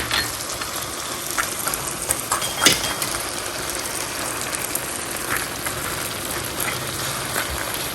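Fried nuts stirred into semolina halwa cooking in oil, giving a steady sizzling crackle with scraping and stirring sounds and a brief sharp clink near the middle.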